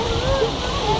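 Flowing water rushes steadily and fairly loudly, a continuous splashing wash with a faint tonal whine threaded through it.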